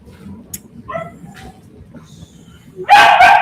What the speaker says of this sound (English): Sorry about the screeching of the dog.